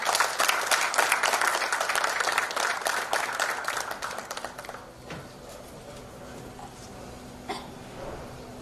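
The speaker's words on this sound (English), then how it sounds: "Let's give him a big round of applause." An audience applauds at an Indo-Canadian industry business gathering in Ludhiana. The clapping is dense and steady for about five seconds, then fades into quieter room noise with a few scattered claps and faint murmurs.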